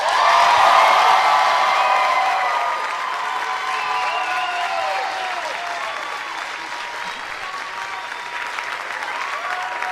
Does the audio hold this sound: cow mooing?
no